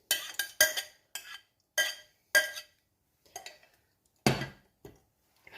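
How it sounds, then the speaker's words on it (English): A spoon clinks and scrapes against a pan while redcurrants are stirred into syrup, a series of sharp separate taps and knocks with pauses between them, fairly faint and close, with no talk. "I'm going to give that a stir, mix it together"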